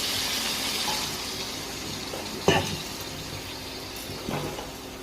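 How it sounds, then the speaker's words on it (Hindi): Water pours into a pan of cooking chicken with a steady rushing hiss, broken by a couple of sharper splashes and clinks. "तो अब आम पानी देदेवा। अल्प पानी देवा।"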